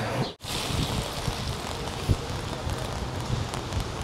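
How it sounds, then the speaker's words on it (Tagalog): Heavy rain pouring down near Interlaken in Switzerland, a steady broadband hiss with occasional louder patters, close and continuous, with a person talking over it. "Bumubuhos ang ulan."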